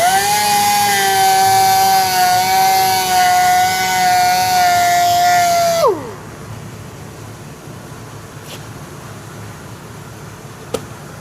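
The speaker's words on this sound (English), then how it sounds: "We'll switch that up to the 800 grit sanding disc next." A power sander fitted with an 800 grit disc whines at a steady high pitch while smoothing the clear coat on a machined alloy wheel during curb rash repair. It runs loud and close for about six seconds, then winds down and stops, leaving quiet room noise.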